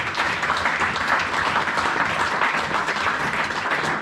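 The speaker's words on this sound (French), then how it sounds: "acclame la parole du Seigneur." A church congregation applauds during a sermon, a dense, steady wash of clapping held at an even level for a few seconds with no break.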